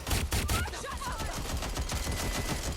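Covering gunfire in the video game Watch Dogs Legion, a burst of rapid close shots and crackling automatic fire lasting the whole moment, loud and dense.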